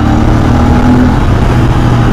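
A Royal Enfield Interceptor 650 motorcycle accelerates in a loud, steady engine drone, with a slight rise in pitch over a short stretch, mixed with wind noise.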